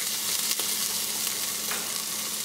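Garlic and ginger sizzling in hot oil in a regular soup pot, a steady close hiss of frying with a couple of brief stirring scrapes.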